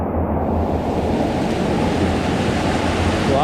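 Water rushes steadily and loudly through the Waitomo cave in New Zealand during black water rafting, a continuous close roar with no break.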